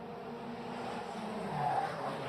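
A Formula Regional race car on the Monaco street circuit gives a steady, fairly loud engine drone, swelling slightly near the end as the driver eases off the throttle.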